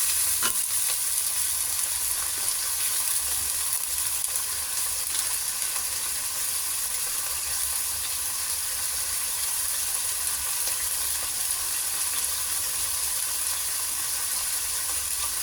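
Liver frying in a pan for chop suey, a steady close sizzle with stirring scrapes running throughout, no voices.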